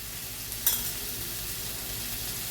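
Vegetables and tomato fry in a pan while dalia is being prepared, giving a faint steady sizzle with one brief stir or clink near the start, quiet and without talk.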